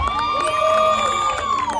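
A crowd at a Six Flags New England Creepshow freak show cheers and whoops loudly and continuously for a performer, with children's shouts mixed into the roar.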